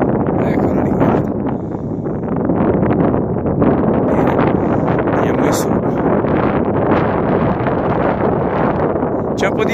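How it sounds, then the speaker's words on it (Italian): Steady, heavy wind buffeting the microphone at about 2800 metres on the Col de la Bonette, a dense continuous roar with gusty surges and faint rustling, no talking. "C'è un po' di vento"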